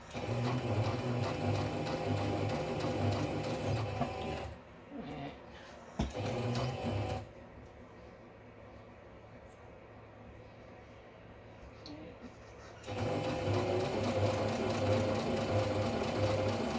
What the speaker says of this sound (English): I'm going to sew that along there.